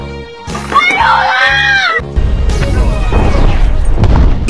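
A loud explosion from the animated film How to Train Your Dragon, a booming blast with a crashing roar after a short stretch of animal-like cries.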